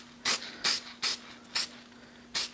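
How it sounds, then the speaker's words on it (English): Red spray paint comes from an aerosol can onto a South Bend lathe ID tag in five short, evenly spaced hissing bursts. A low steady hum runs in the background. "So we're going to paint this red. So spray paint of your choice."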